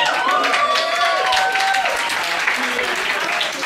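A Berlin street crowd breaks into lively applause and cheering, dense and close, with voices and whistles riding over the clapping for a few seconds.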